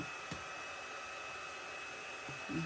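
An electric heat gun runs as a steady, continuous blowing hiss with a faint whine, warming up for embossing powder at a craft table; a couple of small knocks sound nearby.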